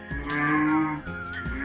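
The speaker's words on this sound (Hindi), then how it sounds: "उनकी गाय गायू ने रंभाना शुरू कर दिया" A cow in a cartoon village lows at night with long, drawn-out moos, loud and close, carrying one continuous call and then a shorter second one.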